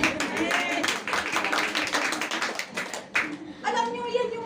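A church congregation at a Sunday celebration claps in quick, fairly rhythmic hand claps for about three seconds, moderately close, before a voice starts speaking.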